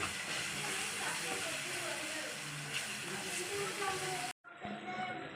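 Ginger garlic paste and turmeric fry in hot oil for a okra yogurt curry, giving a steady broadband hiss and sizzle that fills the whole stretch before a brief cut and a quieter return.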